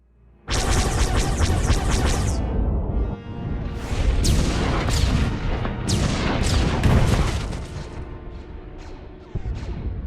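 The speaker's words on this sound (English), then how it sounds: "The orbital strike has secured the landing area perimeter." Fleet orbital strike bombardment in a Star Wars game: a long barrage of loud, overlapping explosions and crashes, with repeated sharp blasts and rumbling booms over about ten seconds.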